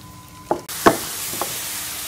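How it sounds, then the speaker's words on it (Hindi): Two onions frying and browning in hot ghee for a creamy pulao: a steady bright sizzle that swells in after a couple of soft knocks, close and alone without talk. "घी को गर्म कर लेंगे। ये 2 अदद प्याज है इसमें शामिल कर लूंगी और प्याज को ब्राउन कर लेंगे।"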